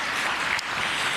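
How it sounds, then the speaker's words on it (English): Audience applause for the First Lady Mazingira Awards logo winner at an environment day ceremony, a steady dense wash of clapping with no gaps that fills the whole moment. "A big round of applause to him again."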